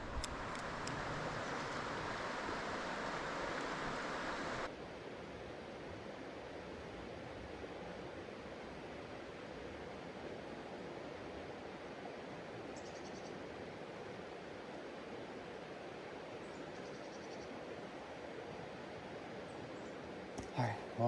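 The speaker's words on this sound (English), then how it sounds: "I think this is called Passage Creek." Passage Creek, a mountain creek, flows in a steady broadband rush that runs continuously, louder at first and then settling into an even wash of water noise.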